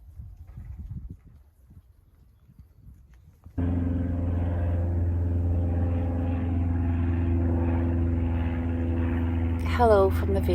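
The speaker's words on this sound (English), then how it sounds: "You probably can hear me with the plane" After some quiet rustling in a vineyard, a propeller airplane's steady, droning hum cuts in abruptly and carries on loud overhead.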